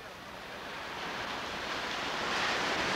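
Ocean surf breaking along a Florida beach, a steady broadband wash that swells slightly louder toward the end, with wind noise on the microphone and no voices.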